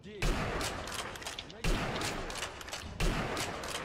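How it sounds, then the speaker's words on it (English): Gunfire in the Sniper Elite V2 video game, with three sharp loud bursts roughly every one and a half seconds, each trailing off into a dense rattling roar like heavy machine gun fire. "They've got a machine gun."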